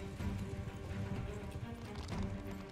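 Cavalry horses gallop across a Mount & Blade II: Bannerlord battlefield, their dense hoofbeats drumming continuously at a low, distant level.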